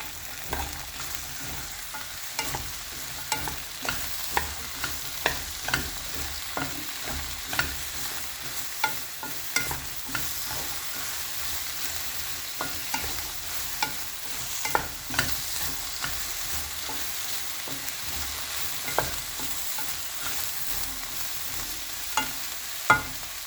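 Lady's finger (okra) sautés in coconut oil in a pan, with a steady sizzle broken by repeated scraping stirs of a spoon, close and clear with no talking.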